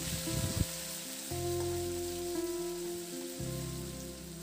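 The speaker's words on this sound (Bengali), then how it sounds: "আদা কাঁচা লঙ্কা পেস্টটা এখানে দিয়ে দিয়েছি তেলের মধ্যে" Ginger and green chilli paste fries in hot oil with a steady, even sizzle that runs throughout, under a low humming tone.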